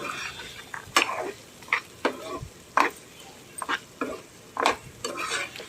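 Onion and tomato with chili powder and turmeric sauté in oil, a low sizzle under repeated sharp clinks and scrapes of a spoon stirring against the pan at an uneven rhythm; no voices.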